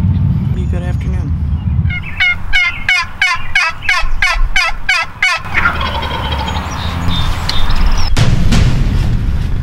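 A wild tom turkey gobbles loudly in a rapid, rattling burst of repeated notes during a late-season Wisconsin spring hunt, over steady outdoor background noise, with a softer trailing call afterward.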